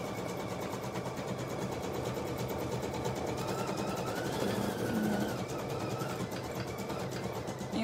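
A Bernette 70-series sewing machine stitches at high speed, giving a steady, fast mechanical whir with rapid needle clatter that swells slightly midway, close by with no talk.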